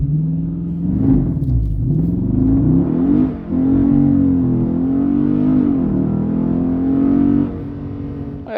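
A 2020 Dodge Charger R/T Scat Pack with a 6.4-litre 492 hp V8 accelerates hard from inside the cabin, its loud engine climbing through several gears with brief drops between shifts.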